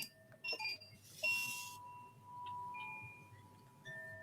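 A Koshi Fire wind chime gives several light, bright metallic tinkles with ringing tones that hang and decay, heard close and fairly quiet with no talking.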